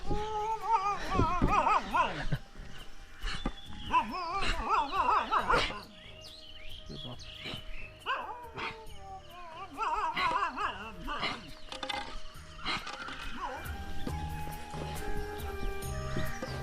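Dogs bark in bursts during a riverside walk at a river confluence on the Narmada pilgrimage route, fairly near and loud, with some whining and yelping mixed in and quieter outdoor sound between barks.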